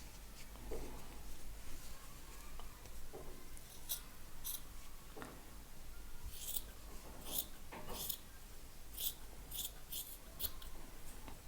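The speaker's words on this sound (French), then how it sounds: "maintenant je peux carrément couper la partie rose, enfin la partie fil contrastant" Scissors snip through pink contrasting knitting yarn on a tubular double-knit jersey piece, a handful of short, crisp cuts scattered over a steady low background hiss, close and fairly quiet.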